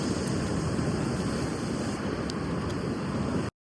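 Sea waves roll in at high tide on the Harihareshwar shore along the Konkan coast, a continuous close wash of surf mixed with wind buffeting, with no pause until the sound cuts off.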